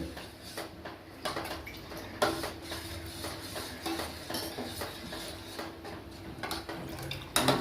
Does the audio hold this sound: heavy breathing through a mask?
no